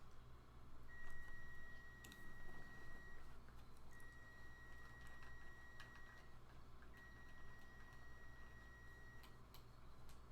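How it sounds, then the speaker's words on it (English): Repeated long electronic beeps from an appliance, sounding in three sustained tones spaced a few seconds apart over a steady low background hum. "Oh, I hear my breakfast beeping."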